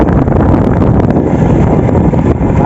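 Strong wind buffets the microphone while riding an old motorcycle along a village road in the evening, a loud, steady roar of rushing air that fills the clip with no clear speech.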